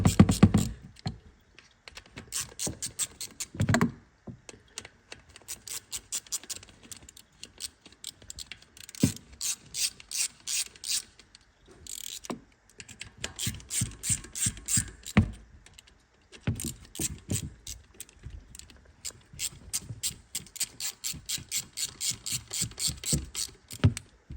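Ratchet wrench clicking as the bolts on a 2013 Honda Foreman 500 ATV's cap are worked tighter during an oil change, heard as close, repeated bursts of rapid metallic ratcheting separated by short pauses.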